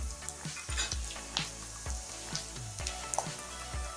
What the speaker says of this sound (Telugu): ఇప్పుడు ఒక 2 మినిట్స్ ఫ్రై చేసుకోవాలి.